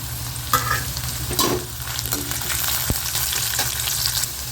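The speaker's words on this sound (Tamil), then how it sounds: "மிளகா வந்து நல்லா வருந்து பாருங்கள்" Red chilies fry with garlic in hot oil for a spicy garlic chutney, giving a steady close sizzle with a few soft scrapes of stirring throughout, no voices.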